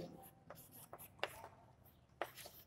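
A pen writes an answer by hand on paper in a quiet room, giving soft, close scratches in short, irregular strokes with brief pauses between them.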